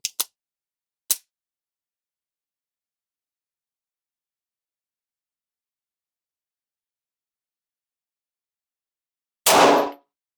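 Pistol shots from a .380 ACP Liberty Civil Defense round fired over a chronograph: two sharp reports at the start, then a long quiet gap and a third, louder, longer-ringing blast near the end, with no talking.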